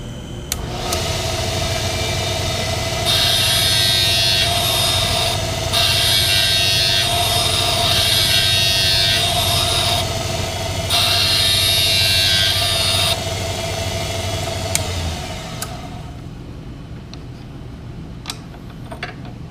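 Grinding stone refacing the rocker arm of a Minneapolis-Moline prototype 445 tractor's valve train, a steady motor hum with a bright hissing grind that comes in repeated bursts as the arm is pressed against the stone, then fades out.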